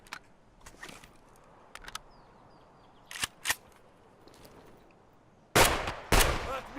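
Scattered gunshots in an Escape From Tarkov outdoor firefight, sharp single reports spaced irregularly over a quiet background, ending with two louder, closer shots.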